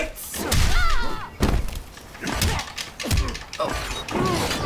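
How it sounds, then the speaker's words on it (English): Heavy thuds and clanking impacts from plates hitting an opponent in a Mortal Kombat X fight, several hard blows in quick succession, mixed with game voices and grunts. "I'm hitting you with the plates!"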